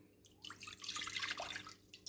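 Three-quarters of a cup of water is poured for pizza dough, giving a soft, close trickle and splash that lasts about a second and a half, with no voices.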